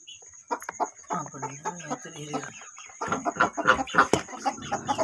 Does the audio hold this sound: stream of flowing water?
no